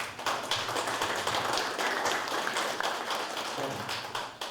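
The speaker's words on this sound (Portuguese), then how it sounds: "Uma salva de palmas." An audience at a parliamentary front session on micro and small businesses breaks into a steady round of applause, dense and continuous for several seconds before tapering slightly at the end.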